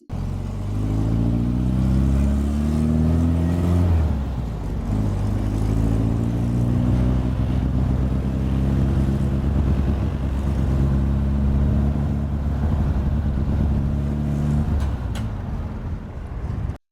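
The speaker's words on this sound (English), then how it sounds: "We're going to take this to just the vintage car." Vintage car engine running steadily and loudly for the whole stretch, with a deep rumbling drone and a small shift in pitch partway through, no voices.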